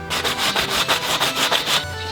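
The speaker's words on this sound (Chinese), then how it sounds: "我们现在用砂纸把边边磨一磨" Sandpaper rubbed along the edges of freshly sawn wood for a camper floor, a close, loud, rhythmic back-and-forth rasp of about ten even strokes before stopping.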